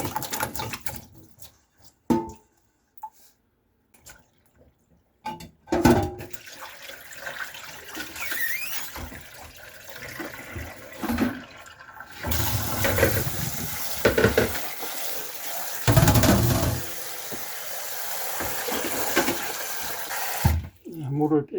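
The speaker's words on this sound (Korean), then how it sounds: "찬물에 담그도록 하겠습니다" Boiled chestnuts splash and swish as they are put into cold water, with intermittent rustling and clattering handling, then a sustained rush of running water. Close and moderately loud, with brief talk early on.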